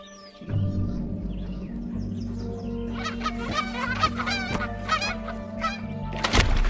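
Canada geese honk loudly and repeatedly in agitated alarm bursts, close by at a pond's edge, with overlapping calls building toward the end over a low background rumble.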